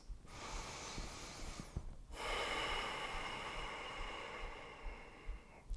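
Deep, slow breathing in a yoga class: one long audible inhale, a brief pause, then a longer airy exhale, close and soft with no talking.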